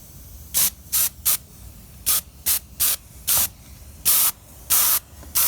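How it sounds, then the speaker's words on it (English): Spray paint misted onto the underside of a model wooden float plane in a run of about ten short, sharp hissing bursts, each under half a second, close and alone with no voices. "you're just going to mist and spray the bottom of your plane"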